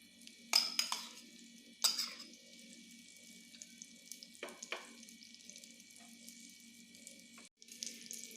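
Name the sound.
stuffed eggplant pieces frying in a pan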